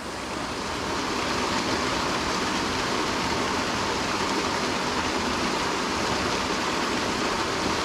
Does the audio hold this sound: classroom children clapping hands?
no